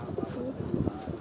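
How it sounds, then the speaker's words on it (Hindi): Pigeons coo in a rolling, repeated rhythm, a white one and a golden-sheened one of a prized breed kept on a rooftop loft, the throaty calls close and steady throughout. "उनके जो फेवरेट ये दो कबूतर हैं जी"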